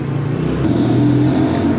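A motorcycle engine runs steadily at close range, a loud, even droning hum lasting about two seconds with no voices.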